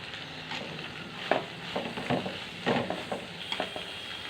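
Brinjal curry is stirred in a sizzling pan after salt and chili go in, soft scraping strokes of a spoon at an uneven rhythm over a steady frying hiss.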